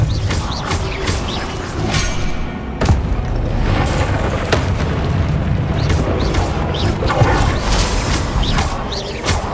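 Magic spell blasts in the Hogwarts Legacy video game, dense booming impacts and crackling bursts over continuous loud battle noise, with sharp hits around the middle and a steady rumbling bed throughout.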